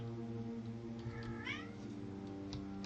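A cat meows in the video game Tainted Grail, a short rising mewing call set over a droning, layered game soundtrack. The meow is fairly clear but sits inside the steady music.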